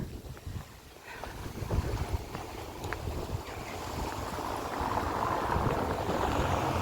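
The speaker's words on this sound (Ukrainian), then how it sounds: "О, вітер зносить. Чуєте, який вітер?" Gusty wind buffeting the microphone in a town centre street in the Netherlands, rising and falling in bursts and growing stronger toward the end, with faint ambient noise beneath.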